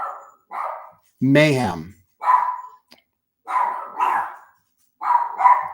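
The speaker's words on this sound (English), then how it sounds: "Unless there's a dog barking next door" A dog barks next door in a string of short, rough bursts, fairly close and steady, and a voice speaks briefly among them.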